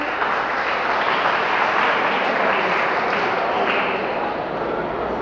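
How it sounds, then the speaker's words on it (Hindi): Audience at a cyber security awareness workshop applauding, a steady, fairly loud patter of many hands clapping in a room, with faint voices underneath. "ताली बजाइए भाई।"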